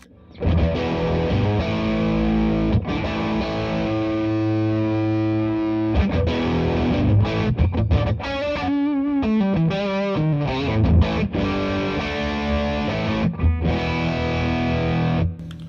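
A heavily fuzzed electric guitar through a fuzz pedal plays sustained chords and a quick riff, thick and saturated with buzzing distortion, loud and alone.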